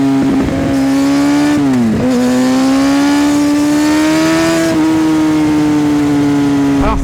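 A 2017 Kawasaki Ninja ZX6R 636 motorcycle is ridden with a loud, continuous engine whine that holds a steady pitch, dips briefly twice, then climbs gently again. The engine sounds close and dominates throughout.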